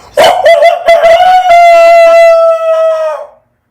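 A human voice imitates a rooster's crow, starting with a few choppy sounds and then holding one loud, drawn-out cry that fades abruptly.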